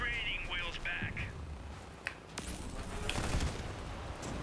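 Heavy cannon fire from an armored combat vehicle in the video game Crossout: a few sharp booms land amid a dense, constant din of engines and battle noise.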